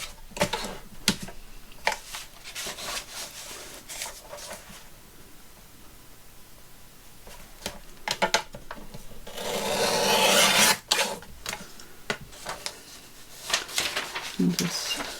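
Paper edges of a handmade shabby vintage journal being trimmed straight, heard as repeated short rasping cuts and rustles, with a longer, louder sustained scrape partway through, close and without talk.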